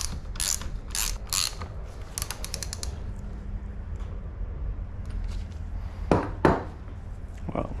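Mechanical creaks and clicks from tightening a part while servicing a worn Scott Spark mountain bike: scattered ratchet-like ticks early on, then two sharper, louder creaks near the end, heard close with no talking.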